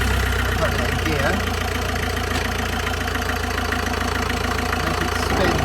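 A Nissan Qashqai engine runs in gear after drive shaft work, a loud steady mechanical drone with a regular knocking rhythm throughout, close to the microphone.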